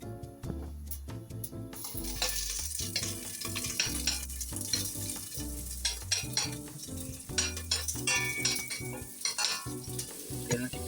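Garlic and cinnamon bark pieces fry in a pot, giving a continuous sizzle broken by repeated scraping and clinking as a utensil stirs them, up close with no talking.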